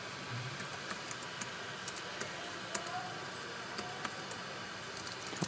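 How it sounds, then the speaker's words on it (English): Keys on a computer keyboard tap out a password in a quiet scatter of light, close clicks over a steady background hiss, with no talking. "I'm gonna type in my password"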